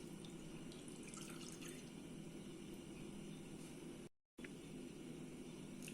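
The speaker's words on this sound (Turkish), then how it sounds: "Bir su bardağı ılık sütümüzü ilave edelim." A steady, close stream of warm milk is poured from a 200 ml glass into a bowl of cheese and dill bun dough. The flow runs continuously, cuts off briefly, then resumes.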